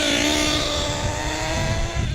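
A Losi 8T RC truck's nitro engine during break-in, running at three-quarters throttle with a loud, sustained high buzzing whine close by and no voices over it.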